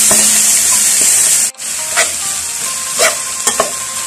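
Steady hot sizzling of chopped frog meat frying in a pan, with a brief drop and a few scraping stirs; no talking.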